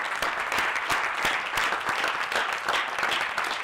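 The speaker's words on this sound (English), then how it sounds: "give Mr. Hua a hand clap, because he worthy" Continuous, dense applause from an audience clapping for Mr. Hua, loud and close, with a steady rhythm of many hands and no speech over it.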